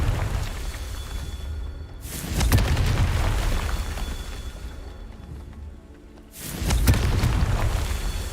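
Confringo spell explosions in the Hogwarts Legacy video game, two loud booming blasts a few seconds apart, each followed by a rumbling roar that tails off over a steady background.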